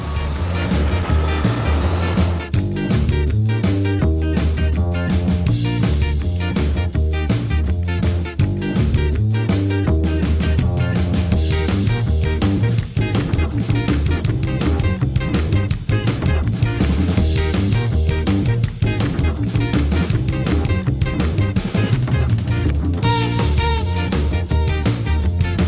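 A car cruises through town traffic in the Dominican Republic, a continuous, busy interior drone lasting the whole stretch, with a layered rhythmic pulse running beneath the road noise.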